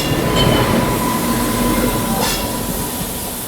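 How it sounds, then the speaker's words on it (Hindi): Dehradun–Subedarganj Express rolling past at a railway junction, a loud continuous rumble of wagons and wheels on rails with faint squeals, steady throughout and easing slightly toward the end. "देहरादून सूबेदारगंज एक्सप्रेस।"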